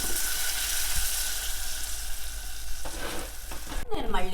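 Madatha kaja, flaky layered Andhra sweet pastries, fry in hot oil with a loud, continuous sizzle. A clatter and a stir of utensils break in near the end.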